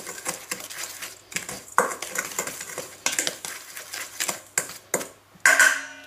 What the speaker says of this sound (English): Just give them a bit of a stir around.